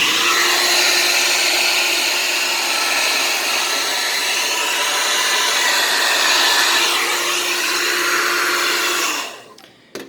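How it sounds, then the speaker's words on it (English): A hair dryer on a high, warm setting blows into the vents of an unplugged Skyworth flatscreen smart TV, a loud steady whir that shifts slightly in pitch, then cuts off near the end. "So put your dryer on high pressure warm heat, and for about 5 minutes you want to blow into it"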